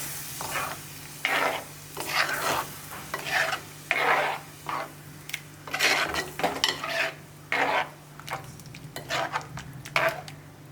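Spoon stirring a pot of Kerala prawn curry (chemmeen curry), a repeated scraping and swishing rhythm with light sizzle from the simmering pot, close and clear with no talk.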